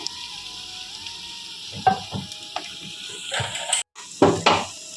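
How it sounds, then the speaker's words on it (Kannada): Spice paste frying in a pan for baghara khana dal: a close sizzle with scraping stirring strokes and pan clatter in irregular bursts, including one brief silent gap. "ಹಸಿ ಸ್ಮೆಲ್ ಹೋಗೋವರೆಗೆ ಫ್ರೈ ಮಾಡ್ಕೋಬೇಕು"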